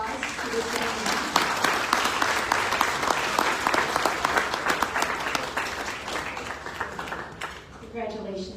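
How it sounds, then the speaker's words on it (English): A room of Rotary Club meeting attendees applauds a scholarship recipient with dense, sustained clapping, then tapers off near the end as a voice begins speaking. "So can we give a round of applause to this gentleman?"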